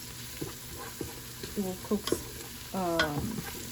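Chicken fries on high heat for biryani, giving a steady sizzle broken by several stirring scrapes and clatters in the pan, close and clear, with a voice heard briefly under it.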